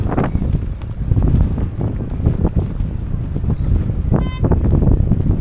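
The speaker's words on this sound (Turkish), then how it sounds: "Zephyrus yani batı rüzgarı tanrısı bayağı hakikaten de bugün" Strong west wind buffets a sailboat during a storm, loud gusty roaring that rises and falls across the clip, with a short tonal horn-like whine near the end.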